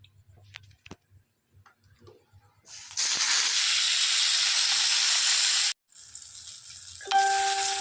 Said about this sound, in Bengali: এবার বেগুনটা ভেজে নিই।